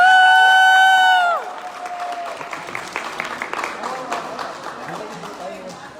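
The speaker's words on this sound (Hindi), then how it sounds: "तो जोरदार तालियां एक बार" After a brief tone fades, an audience breaks into clapping and cheering for a creator at a gathering, a lively burst of hands and shouts with voices mingled in.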